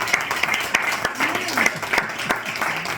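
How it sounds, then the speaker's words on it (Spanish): A church congregation applauding during a sermon, a sustained burst of close, lively clapping with a raised voice or cheering carried over it. "le das un aplauso al Señor"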